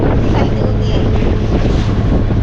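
A small boat slaps against sea waves near Malvan, a loud continuous roar of wind and rushing water with dull thumping hits, close to the microphone.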